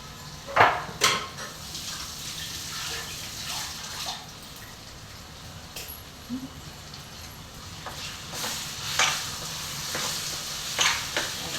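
An eggplant mixture for bharit sautéing in a pan: a low, steady sizzle broken by clinks and scrapes of a utensil against the pan, close and fairly quiet, no talking.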